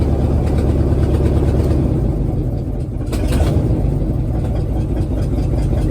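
A Chevy square body rollback truck with no exhaust idles roughly and loudly up close, a steady raw rumble that sags and stumbles slightly partway through.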